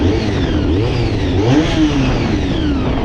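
A 1990 Honda VFR400R NC30 motorcycle engine revs up and down while riding, a loud close rising and falling whine with engine braking, continuous and without talk.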